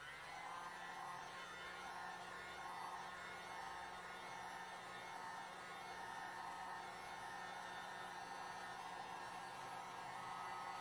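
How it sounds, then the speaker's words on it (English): A heat gun blows hot air across wet resin on a canvas, making a steady, loud whooshing hiss that runs unbroken and alone throughout. "Might use my heat gun to just try and open them up a bit."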